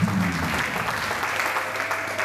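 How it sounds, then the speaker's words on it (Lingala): A church congregation applauds a guest at a pastor's birthday celebration, a dense steady patter of many hands clapping together throughout, fairly loud and continuous with no talk over it. "On va acclamer pour sa présence."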